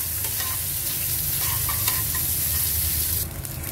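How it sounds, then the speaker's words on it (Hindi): Chicken sautéing in butter in a pan, a dense, steady sizzle with bursts of crackle and occasional stirring, close and loud, continuing without talk before easing slightly at the end. "पैन में बटर डाल के अब हम चिकन को हल्का सा सौते करेंगे"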